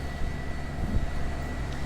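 A 2001-built QantasLink Dash-8 Q300 turboprop airliner gives a steady, broad, loud droning roar that holds unchanged throughout.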